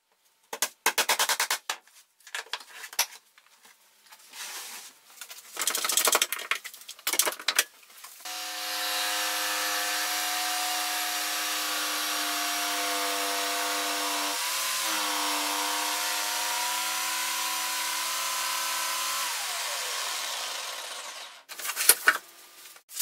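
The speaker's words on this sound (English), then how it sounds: "Okay, I cut the bottom board" A power saw cuts a plywood board for a garden table top: a few handling knocks first, then a loud, steady whining cut of about eleven seconds with a brief dip midway, ending in spin-down and a final clatter.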